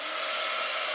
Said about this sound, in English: use the heating tool to heat up the area that we've just impressed onto card